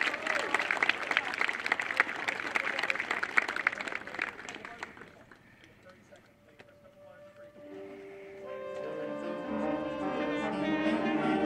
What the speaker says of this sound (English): Can we have one more round of applause for our clarinets?